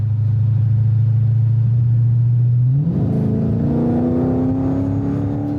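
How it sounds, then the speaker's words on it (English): A Dodge Scat Pack's engine holds a steady low drone, then its dual-clutch transmission snaps through a quick shift and the pitch climbs into a new, higher rising tone, loud and close with no talking. "There you hear those shifts just going off one by one."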